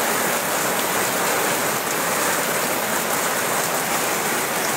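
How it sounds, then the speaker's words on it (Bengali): A heavy downpour pours across Deganga, a dense, even hiss of rain striking surfaces that stays loud and constant throughout with no voices. "এই মুহূর্তে যে বৃষ্টি হচ্ছে"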